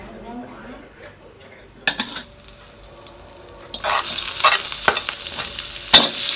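Fish sizzles in a frying pan, the hiss growing loud and steady partway through, with clinks and stirring of the pan and no voices.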